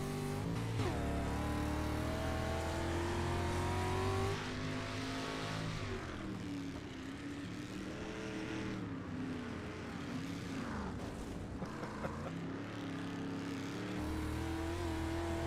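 Onboard in-cockpit engine roar from a dirt street stock race car during an enduro derby, loud and continuous with droning harmonics that rise and fall as the driver revs and lifts, filling the whole stretch without talk.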